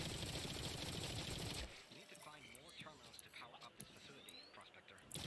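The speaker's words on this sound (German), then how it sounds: "Schüsse sind hier irgendwo." Gunfire in the video game The Cycle: a dense rattling burst of rapid shots, then scattered sharper cracks and clinks while someone talks over it, the shooting fairly quiet and somewhat distant.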